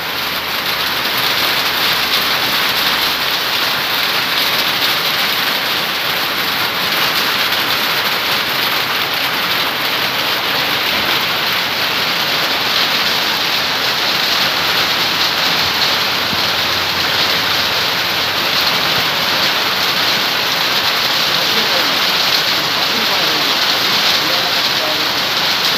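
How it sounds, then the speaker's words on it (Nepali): Heavy rain mixed with hail pours down in a dense, loud, continuous hiss of drops striking surfaces, steady throughout with no pauses. "पानी त पऱ्यो तर असिना पनि परिरहेको छ भाइ।"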